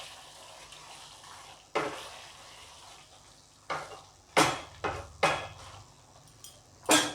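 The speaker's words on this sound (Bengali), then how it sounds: "এবার আমি এর মধ্যে 1 চামচের কাছাকাছি ঘি দিলাম, দিয়ে একটু মিশিয়ে দেব ঘিয়ের সঙ্গে" Potato curry (aloo dum) with ghee is stirred in a pan, starting with a faint sizzle and then several sharp, close scrapes and clanks of a spoon against the metal, spaced irregularly with a loud cluster near the end.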